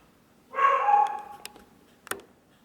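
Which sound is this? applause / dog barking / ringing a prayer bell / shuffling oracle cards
dog barking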